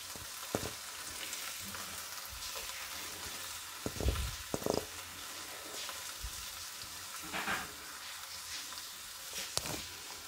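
Capsicum and tomato frying in a pan for a macaroni pasta dish, a soft steady sizzle with scattered spatula scrapes and knocks, faint and without talk.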